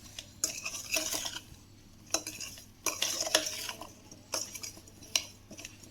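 A spoon stirs cooled oil into an Indian gooseberry pickle mixture, making repeated scraping and clinking bursts against the bowl in uneven strokes, close and fairly loud.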